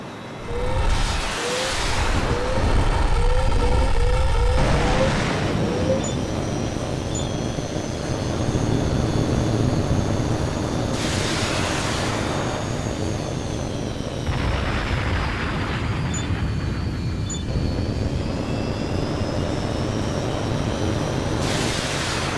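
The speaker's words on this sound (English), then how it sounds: "release a flare and make a sharp turn to decoy the missile" A jet fighter in the video game HAWX 2 evades incoming missiles, its steady engine roar running throughout while repeated bursts of rushing noise and warning tones come and go over roughly twenty seconds.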